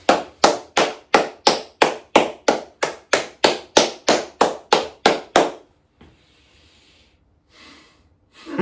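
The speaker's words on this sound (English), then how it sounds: "give it a round of applause" About a dozen evenly spaced, loud hand claps ring out in a steady rhythm, likely from a single person, then stop abruptly, leaving near silence with a few faint rustles.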